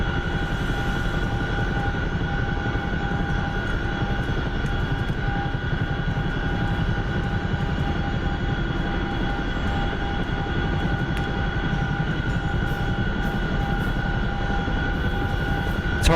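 Chinook helicopter flown in a video game, a steady loud rotor and engine drone with constant tonal whine, unbroken throughout and close.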